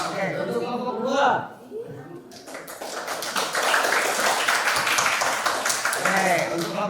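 Students in a classroom clap for a presenting group, a dense burst of scattered handclaps lasting several seconds, with a teacher's voice talking before and over it.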